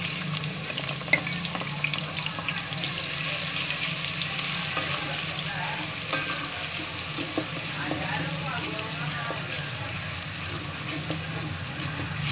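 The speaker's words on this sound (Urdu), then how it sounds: "اب ہم گارنش کے لیے پیاز براؤن کرنے لگے ہیں۔" Onions browning in oil or ghee for a chicken nihari garnish, a steady close frying crackle with stirring and small clinks throughout, with faint sounds of activity under it.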